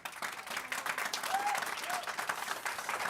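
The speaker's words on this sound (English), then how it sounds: "Can I ask the public to refrain from applause here?" Public audience applauding during a historic preservation board meeting, a sustained patter of clapping in a hall, fairly faint and distant, with a brief voice faintly audible beneath it.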